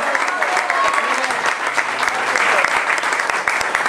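An audience applauds a singer at a live music event in a museum, producing dense, loud, sustained clapping with a few shouts mixed in, continuous throughout.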